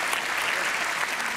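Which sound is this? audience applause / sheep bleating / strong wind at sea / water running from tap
audience applause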